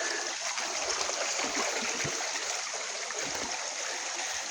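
Bugso Falls, a hidden waterfall in the mountains, pours in a steady broadband rush of falling, splashing water, close and constant throughout with no pauses.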